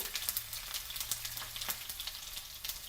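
Garlic and chili hit hot oil in a pan that already holds mustard seeds and cumin for padval bhaji, crackling and sizzling steadily with quick sharp pops scattered through it, close and clear, with no talking.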